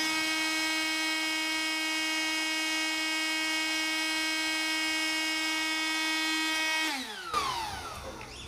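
A Ryobi 18V cordless dust blower runs at steady full speed with a high motor whine and strong harmonic tone, held at point-blank range, then abruptly winds down near the end with some clatter.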